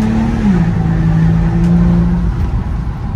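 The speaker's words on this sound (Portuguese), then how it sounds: "vamos dar um acelero com o escape aberto" A Volvo XC60 fitted with an open sports exhaust revs hard, its engine note climbing and holding as a loud, steady, close growl with a throaty rasp, and nobody speaking over it.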